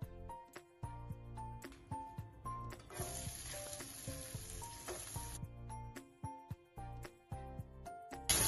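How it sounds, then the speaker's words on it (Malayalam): Sliced onions frying in hot oil for a biryani, a steady close sizzle with a brief louder hiss in the middle and occasional clinks of a spoon stirring in the pan. "ഉള്ളിയൊരു നന്നായി വൃത്തിയായി ബ്രൗൺ കളറാകുന്നത് വരെ നമ്മുടെ സവാള ഗോൾഡൻ കളറായിട്ടുണ്ട്"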